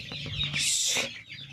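A country chicken clucks on a weighing scale: a few short, close clucks, then a louder, drawn-out squawking call before it settles into softer clucking.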